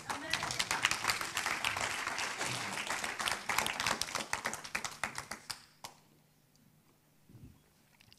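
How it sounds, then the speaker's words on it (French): A church congregation applauds during a sermon, crisp individual claps building into a lively burst that fades out abruptly near the end, leaving near silence with a faint voice. "Et si vous êtes pour applaudir, vous applaudissez vraiment."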